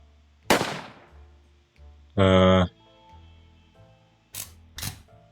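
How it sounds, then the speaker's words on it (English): A single sharp gunshot cracks and decays in the survival video game 60 Seconds, followed by a buzzing tonal burst and two more brief sharp clicks. "Why was there a gunshot?"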